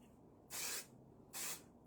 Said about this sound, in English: now I'm going in with shine spray